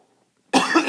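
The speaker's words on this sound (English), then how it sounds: "got a little coughing fit there" A short, loud cough bursts out after a half-second of near silence, a single harsh fit from a lecturer mid-lesson, close to the microphone.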